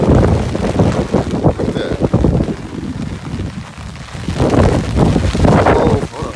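Strong hurricane winds from Hurricane Florence buffet the microphone beside a brimming lake in a neighborhood, loud roaring gusts that surge and ease, with someone speaking briefly under the wind.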